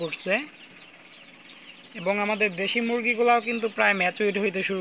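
Native chickens cluck and call near the listener, with a short burst early on and then a busier run of repeated, overlapping clucks that carries on to the end.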